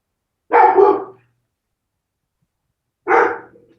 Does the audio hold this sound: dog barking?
yes